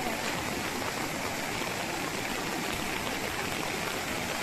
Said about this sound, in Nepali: राम राम हेर खोला पनि यत्रो ठुलो भएछ नि